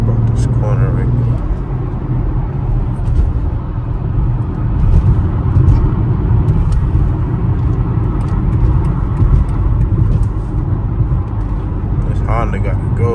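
A BMW X3 M being driven gives a loud, steady engine and road drone from inside the cabin, lasting throughout under a person talking.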